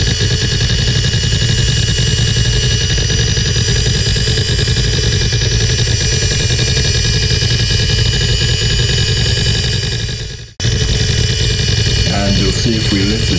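A desktop hard drive reading and writing during a file transfer gives a steady, loud mechanical hum and whir with faint ticking, continuous throughout, briefly cutting out near the end before resuming.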